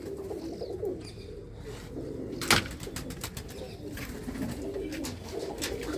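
Female pigeons sitting in a loft coo faintly and steadily, with a brief flutter of wings and a sharp knock partway through; no one speaks.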